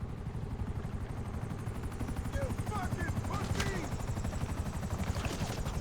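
Video game helicopters thrumming with a steady low rotor pulse, accompanied by distant bursts of gunfire and a faint voice.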